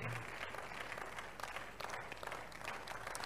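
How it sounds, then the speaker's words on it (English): A church congregation claps together during an altar call at a prayer service, a dense, fairly distant wash of hand claps with some sharper accents, steady throughout. "If that hand clap is for Jesus, you will make it louder and bigger."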